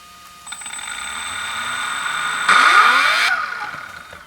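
An R1 V21 electric motor with its standard rotor spins up on a test bench during an RPM run, a loud, steady, high-pitched whine that holds and then surges briefly louder before tapering off.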